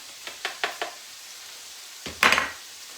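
General Tao chicken in a pan as sauce is added, a few light utensil taps followed by a short loud sizzle burst as the sauce hits the hot pan.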